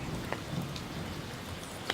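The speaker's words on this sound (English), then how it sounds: "All I feel is the rain." Steady rain falling during a wet, grim day in New Zealand, a dense continuous hiss with a few faint drop taps over it.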